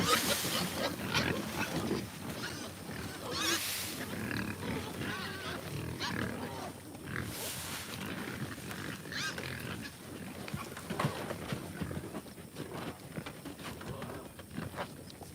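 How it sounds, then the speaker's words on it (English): Pigs on a farm grunt, squeal and oink excitedly at close range, with loud bursts and shrieks over a busy, restless herd and occasional human voices in the background. "Oh, those pigs are crazy."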